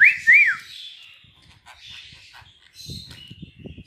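A pet budgerigar (Australian parakeet) gives a couple of sharp, bright chirps up close, followed by softer twittering chatter and faint low background sounds.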